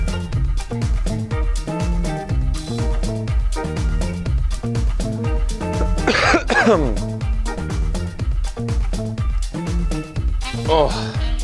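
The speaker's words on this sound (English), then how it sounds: "Why am I coughing?" A single harsh cough bursts out midway through continuous background music with a throat-clearing feel, close and fairly loud.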